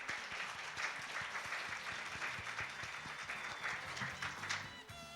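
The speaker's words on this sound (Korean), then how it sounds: "여러분 큰 박수로 이수화 이사님을 단상으로 모시겠습니다" Audience applause at a Korean open-source software day conference, welcoming a keynote speaker to the stage: dense, steady clapping from a crowd throughout, fairly distant and even.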